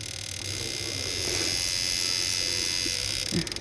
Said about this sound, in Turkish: Dışarıdan manuel olarak enjektör test makinemizle test ediyoruz.